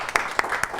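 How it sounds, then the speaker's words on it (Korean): Scattered clapping from the audience at a district animal-policy forum, a short thin patter with a few sharper individual claps. "윤재원 원장님께 다시 한번 박수 부탁드리겠습니다"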